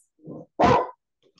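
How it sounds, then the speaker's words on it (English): A dog nearby gives two short barks, a soft muffled woof followed by a louder, sharper one, with silence on either side. "I got a barking dog."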